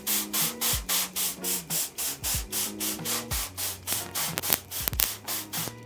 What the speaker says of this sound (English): You just spray the whole screen with some water